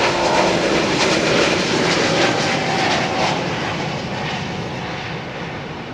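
Jet airliner engines roaring steadily at London Heathrow's runway 27R, a loud, continuous broadband rumble and whine that holds for several seconds and eases slightly toward the end, with no voices.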